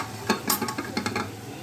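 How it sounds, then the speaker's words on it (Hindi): Ground masala roasting in a pot for chana pulao, a soft sizzle broken by several quick stirring scrapes and clinks of a spoon against the pot. "ये पिसा हुआ मसाला है। इसको भूनेंगे।"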